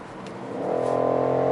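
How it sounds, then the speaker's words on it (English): A BMW X6 M50i engine in Sport Plus mode pulls under acceleration, a steady low rumble that swells smoothly in loudness and pitch over a second and a half, heard from inside the cabin with no voices. "Now the point of view test drive of the BMW X6 M. We are currently in the Sport Plus mode."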